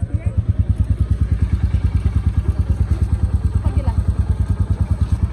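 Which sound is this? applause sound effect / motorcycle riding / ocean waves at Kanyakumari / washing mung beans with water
motorcycle riding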